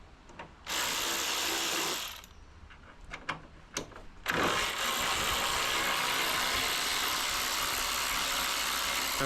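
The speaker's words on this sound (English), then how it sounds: "So just undo your 2 bolts that hold your latch" Ratchet undoing latch bolts while removing the fender during an HJ75 restoration, bursts of fast ratchet clicking separated by brief pauses and scattered clicks, close and fairly loud.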